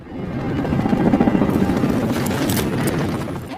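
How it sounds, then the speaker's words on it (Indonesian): A helicopter's rotor thumps in a loud, dense, continuous chop, heard up close with no voices. "Berangkatlah mereka menggunakan helikopter."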